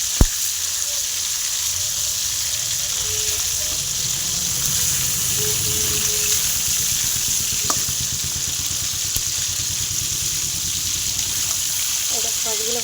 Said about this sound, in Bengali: মাছটাকে ভেজে এখানে তুলে নেব।